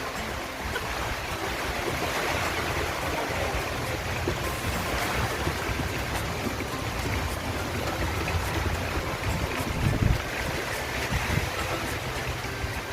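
Typhoon Bising sweeps outdoors with wind and rain, a continuous broadband roar and hiss with faint low gusts that holds steady and unbroken throughout.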